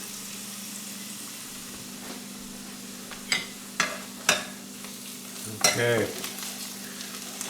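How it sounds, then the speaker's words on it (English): Yellowfoot chanterelle mushrooms cook in a pan with a steady low sizzle, broken by a few sharp stirring clacks and a brief scraping shuffle near the end; someone speaks a single short word. "Cook these mushrooms."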